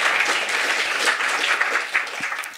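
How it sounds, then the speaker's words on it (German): Audience at a science slam in Freiburg applauds the participants of a live experiment, a dense, sustained wash of clapping from a crowd filling the room. "Erstmal einen großen Applaus an euch alle, dass ihr mitgemacht habt beim Live-Experiment"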